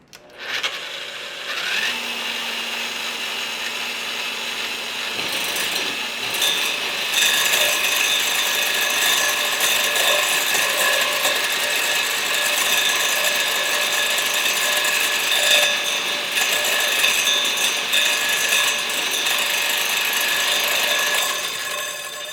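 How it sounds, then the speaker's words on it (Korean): A drill runs continuously with a loud, harsh metallic rattle and clatter from loose play, grinding steadily for a long stretch without voices. "이게 유격이 생기니까 덜그럭 부딪히는 소리가 많이 나네요."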